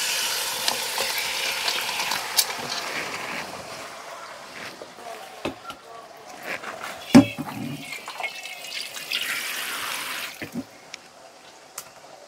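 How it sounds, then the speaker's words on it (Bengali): Onions frying in a pan on a wood-fired clay stove, a steady soft sizzle with scattered clinks and a sharper knock midway, no talking. "আমার পেঁয়াজটা ভাজা হয়ে যাচ্ছে"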